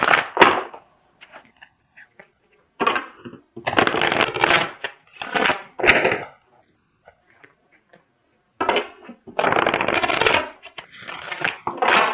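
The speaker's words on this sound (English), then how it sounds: "I'm going to pull another clarifying card for this last card for you." Tarot cards being shuffled and drawn from the deck, several bursts of riffling and crisp card handling broken up by quiet pauses, close up with no talking.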